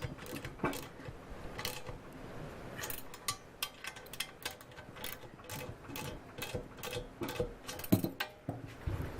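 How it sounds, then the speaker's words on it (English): Bolts on an ALTA SIX GPR drone assembly are tightened by hand, a faint run of quick ratcheting clicks and small mechanical ticks repeating throughout. "now tighten these bolts, and these should be pretty tight"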